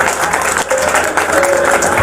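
Applause at a gym's New Year celebration, a close, fairly loud patter of clapping from a gathered group that pulses unevenly across two seconds.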